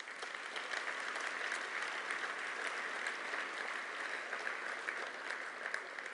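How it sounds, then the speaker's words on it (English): Sustained applause from an audience at a business awards ceremony, steady dense clapping that fills the whole stretch without pause. "a big round of applause"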